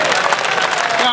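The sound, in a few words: audience clapping at a poetry recital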